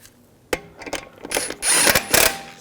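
Lug stud on a BMW 328i wheel being threaded in and snugged down, with a few sharp metallic ratcheting bursts and clicks close by, building to louder rapid ratchet passes near the end.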